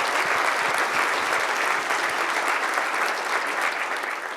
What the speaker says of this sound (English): Can we get a big round of applause for the exhibitors who sat outside?